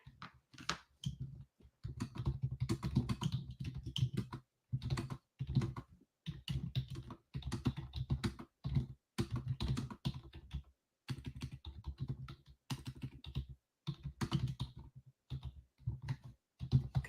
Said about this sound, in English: I'm going to type in our chat.